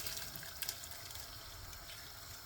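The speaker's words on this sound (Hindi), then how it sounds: "ये जो चावल हमने गर्म पानी में भिगो के रखे थे ये डाल देंगे, ऐसे ही पानी समेत" Soaked rice goes into a pot together with its soaking water during Kabuli Pulao preparation, a soft continuous watery rush and splash, faint and close, with no talking.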